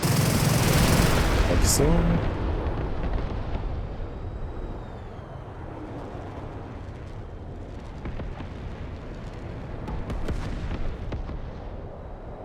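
Rocket salvo fired from a jet fighter in the Metalstorm video game, a loud rushing blast that fades into a lower rumble with scattered crackling impacts, and someone briefly speaks over it.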